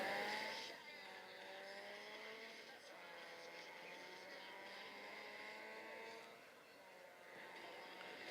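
Engine sounds from a racing video game on an iPad, a steady droning motor tone with rising and falling pitch sweeps as the car accelerates, heard under speech throughout.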